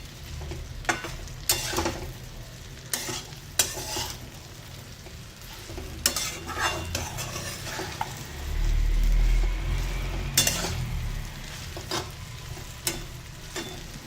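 Okra (bhindi) being stir-fried in a pan over a high gas flame, with steady sizzling broken by repeated sharp scraping and stirring strokes of the spatula, close and fairly loud, no talk.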